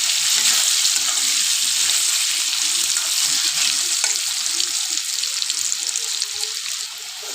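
Potatoes fry in hot oil with turmeric in a pan, giving a loud, steady, close sizzle that continues throughout with no voices.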